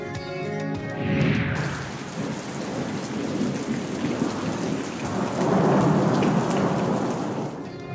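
Heavy rain hisses steadily over a Lahore street while deep thunder rumbles and swells, rising again near the end, loud and close throughout.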